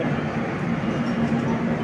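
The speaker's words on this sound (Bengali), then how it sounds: "ট্রেন চলে যাচ্ছে" A train rolls past at a station in Tarapith, India, a steady rumble with a faint tonal hum throughout.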